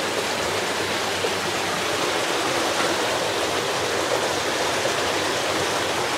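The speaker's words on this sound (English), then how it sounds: "So you've got another brook that comes into here," A brook, or beck, flowing into Robin Hood's Bay gives a steady, dense rushing of water. It is fairly close and continuous, with no talk over it.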